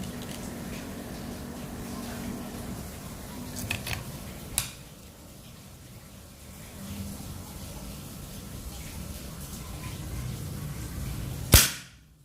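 A sharp, sudden shot from a .22 PCP air pistol at 3500 psi cracks out near the end, with quieter clicks and handling noises earlier over a hushed background.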